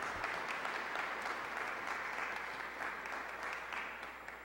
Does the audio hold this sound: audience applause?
yes